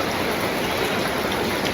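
Steady rain falling in a village, a dense even hiss that keeps going without a break and without voices.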